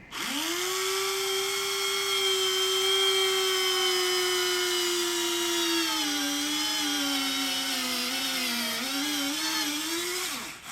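A power drill whines at a steady high pitch, then bogs down and wavers as it bites into a model submarine before stopping.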